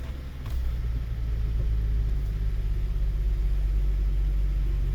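A Ford SUV raised on jack stands runs at a steady idle, a loud, continuous low engine rumble close by with no talk over it.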